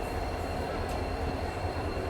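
A train rumbles at a junction railway station in India, a loud, steady low roar with faint rail hiss and clatter, heard from on or beside the train.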